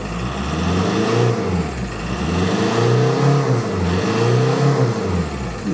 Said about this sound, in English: appears to rev better than it did.